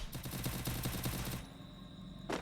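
Rapid automatic gunfire rattles in a shooter video game, a dense burst of shots lasting over a second before cutting to a quiet hum and a final sharp shot; no talking.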